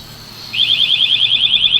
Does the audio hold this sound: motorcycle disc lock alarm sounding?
yes